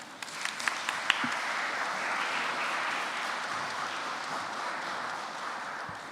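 Sustained audience applause at an inter-primary schools debating championship, a steady dense wash of many hands clapping for about six seconds, with a few sharper claps near the start.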